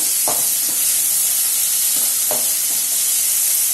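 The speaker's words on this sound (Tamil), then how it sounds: "இது மாதிரி நல்லா வதக்கிக்கோங்க." Tomatoes being sautéed in a pan for okra poriyal give a steady, close frying hiss, with a few soft stirring scrapes rising out of it. No one speaks.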